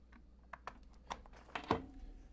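A computer keyboard being unplugged and handled at a desk: a few close, scattered plastic clicks and knocks, with a louder clack near the end, over quiet room hum.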